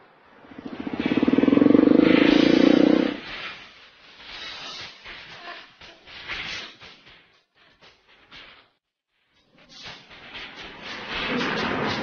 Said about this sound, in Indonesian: sekarang kita jalan naik motor lo aja